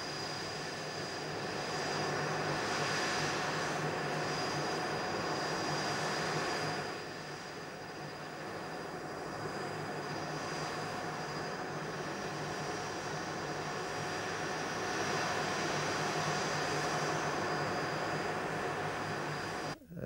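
Blackburn Buccaneer jet bomber flying, a loud steady roar of jet engine noise that holds for the full length with slight swells, ending abruptly.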